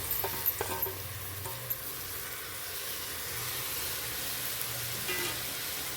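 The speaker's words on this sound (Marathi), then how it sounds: "आणि हे एकदा छान हलवून घ्यायचे बघा" A spoon stirs washed rice with peas, potato and spices in a pan, giving soft scraping and a faint sizzle, with a few sharper clinks early on and a steady low hiss throughout.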